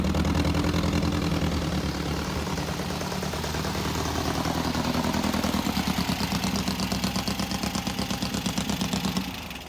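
An abandoned dune buggy's engine runs steadily at a rough idle, loud and close, with a fast, uneven chugging pulse throughout and no voices.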